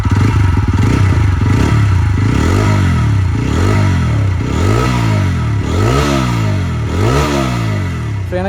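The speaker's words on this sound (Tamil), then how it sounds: "So what you feel about this exhaust note?" A 2025 TVS Apache RTR 160 4V motorcycle exhaust sounds loud and close, revved repeatedly in rising and falling sweeps, about seven blips over a steady idle rumble, with no talking.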